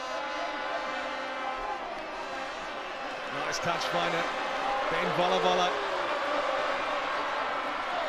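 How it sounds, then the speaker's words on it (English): A rugby crowd at Fiji versus Samoa in Lautoka, Pacific Nations Cup, as a steady roar of massed voices that swells louder midway, with a commentator talking over it throughout. "the crowd start to find their voice in Lautoka"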